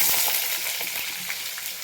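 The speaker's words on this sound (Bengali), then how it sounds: "আলুটা ভালো করে ভেজে নেব" Potatoes frying in oil in a wok, a close, continuous crackling sizzle with scattered small pops at a steady level and no talking.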